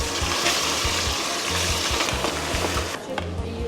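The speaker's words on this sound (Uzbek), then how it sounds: "Yog'imiz qizidi, chiroyli qilib qovurib olamiz." Chicken pieces fry in hot oil in a pot for plov, producing a continuous loud, close crackling sizzle that eases slightly near the end.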